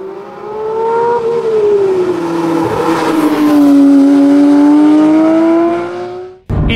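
A 2024 Porsche 911 GT3 Touring's naturally aspirated flat-six boxer engine, which revs to 9000 rpm, sings loud and close in a sustained rising and falling note before cutting off abruptly near the end.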